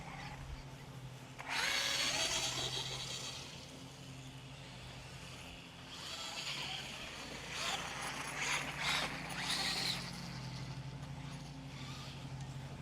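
A small RC car's electric motor whines at full throttle in bursts, rising to a high buzzing scream, easing off, then revving again several times, heard from a moderate distance without talk.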